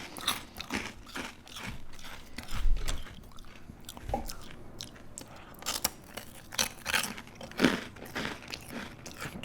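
Close, crisp crunching bites of Asian snacks such as dried cuttlefish and spicy chips, irregular bursts of chewing with quiet pauses between, recorded up close.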